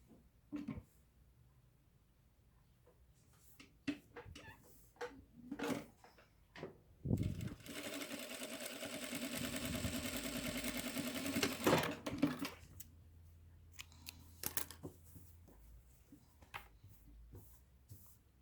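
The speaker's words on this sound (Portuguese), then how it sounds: "Agora eu vou lá na máquina e vou fazer essa costurinha aqui lateral." Sewing machine stitching the side seam of a cotton tricoline dish towel, a steady loud whir lasting about five seconds between scattered handling clicks and fabric rustles, with no talking.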